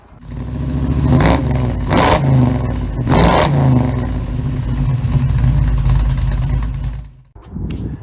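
Rough, loud power sanding on the metal body of an old air compressor being stripped of surface rust, a steady abrasive whine with a few louder surges, running almost continuously before cutting off near the end.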